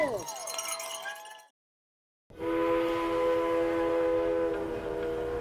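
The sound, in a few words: train departing with whistle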